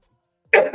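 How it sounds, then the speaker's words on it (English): A single short cough, close and fairly loud, bursts out of silence and ends with a brief second push. "oh, there's a cough in my ear"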